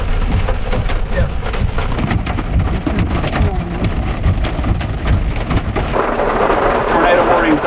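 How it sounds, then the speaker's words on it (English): Hail and heavy rain pound the roof of an RV during a thunderstorm, a dense, continuous roar of rapid impacts with deep rumbling underneath, loud and close throughout, growing brighter and harsher near the end. "Oh, it's hail."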